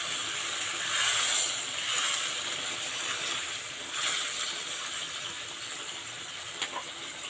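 A steady hiss and sizzle rises from frying meat as a small splash of water goes into the hot oil, a continuous bubbling spatter at moderate, fairly quiet level with no talk.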